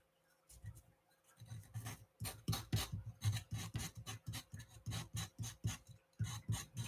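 A metal file rasps rhythmically across a metal edge to remove burrs, a steady series of close, scraping strokes repeating about twice a second, with no talking.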